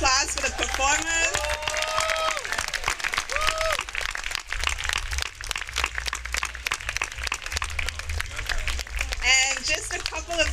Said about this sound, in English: Please, let's give another round of applause for the performers.